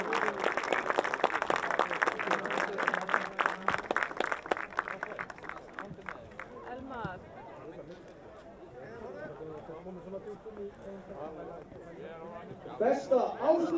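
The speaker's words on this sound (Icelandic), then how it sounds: "Gefum honum gott klapp." Audience applause at a football club awards event for Selfoss, dense clapping from a crowd that swells at the start then thins into scattered claps and murmuring chatter, with a brief renewed burst near the end.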